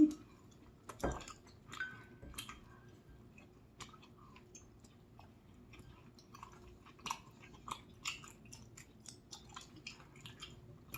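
Korean rice cake (tteok) being chewed close up during a holiday rice cake tasting, with soft, sticky, intermittent chewing and small smacking clicks at low level, no talking.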